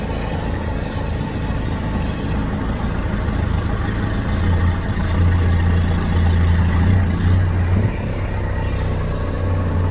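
Vehicle engine running in low gear during a hydraulics job, a steady low rumbling idle that stays loud and even throughout, with a slight swell in the low end midway through.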